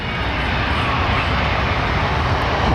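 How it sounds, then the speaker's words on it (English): An Airbus A330neo airliner at London Heathrow Airport gives off a loud, continuous engine roar at close range. "here's another 330, look, sweet. It's Neo."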